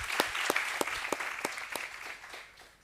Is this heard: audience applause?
yes